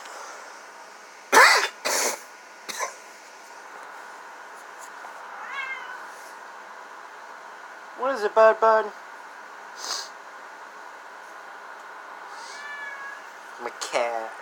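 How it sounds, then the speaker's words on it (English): A pet cat meows several times in short, close, whining bursts spread across the stretch, with someone speaking softly to it and a few coughs and sniffs in between. "My cat. Not my cat. My sister's cat."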